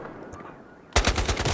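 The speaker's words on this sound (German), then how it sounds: "Schießen zu dritt auf mich vom Dach aus und treffen mich kein einziges Mal." Several shooters fire from a rooftop in Battlefield Hardline: after a quiet stretch of low background noise, a sudden loud burst of rapid, overlapping gunfire erupts and keeps rattling close by until the end.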